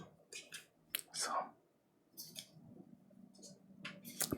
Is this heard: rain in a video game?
no